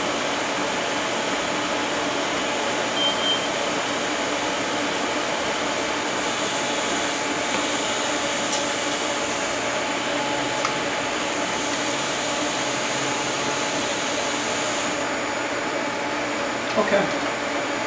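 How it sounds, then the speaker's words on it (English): Steady arc welding along a metal seam, a constant close crackling hiss that runs unbroken throughout with a few faint clicks near the end. "So now we're welded all the way around on this."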